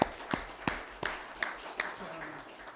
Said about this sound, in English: I'd like to give a shout out and a round of applause to these guys.